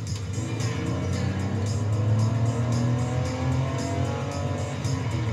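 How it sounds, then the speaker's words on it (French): An old BMW inline six-cylinder engine runs and revs steadily, a near, continuous car engine drone with rising and falling pitch and no talk over it. "Un beau 6 cylindres en ligne, donc le bruit qui va avec, c'est important."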